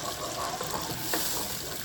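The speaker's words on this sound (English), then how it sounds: "add in some dijon. Let's give that a little stir." Dijon mustard being stirred into a pan of honey mustard chicken, a soft continuous sizzle with faint scraping strokes and small liquid movements throughout.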